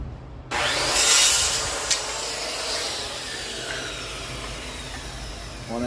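A hand saw cuts a length of wood trim for a storage nook, making steady, close rasping strokes that carry on for several seconds before stopping.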